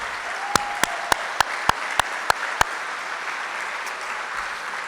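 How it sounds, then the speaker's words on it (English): Applause in a hall at a sports club hall of fame ceremony honouring athletes, staff and coaches, a steady crowd of clapping with a run of eight sharp, evenly spaced loud claps near the front in the first half. "I'd love for them to stand up and we give them a round of applause."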